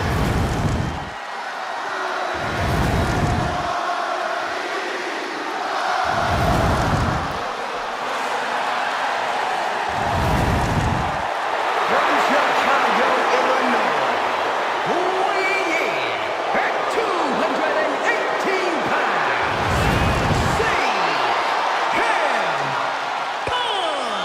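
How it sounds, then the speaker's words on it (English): In WWE 2K26, a wrestling crowd gives CM Punk a sustained hometown ovation, a dense wash of cheering that holds steady throughout, with commentators repeatedly talking over it. "Just listen to this ovation for the Second City Saint."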